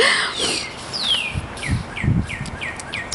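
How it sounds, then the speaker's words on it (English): Birds sing outdoors after a long winter, with a string of quick descending chirps repeating in a steady sequence, faint and somewhat distant against a soft background hiss. "I can't believe we can hear birds outside."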